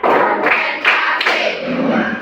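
A room of school students claps in rhythmic counted patterns, with loud close bursts of hand claps that come and go over a couple of seconds.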